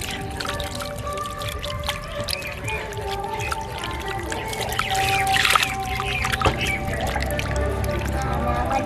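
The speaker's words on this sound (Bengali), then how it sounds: "এবার আমি ছানাটাকে একটু ঠান্ডা জল দিয়ে ধুয়ে নেব।" Cold water pours and trickles over fresh chhana made from home cow's milk, with splashing and dripping close by, growing fuller and louder toward the end, and some indistinct murmuring in the background.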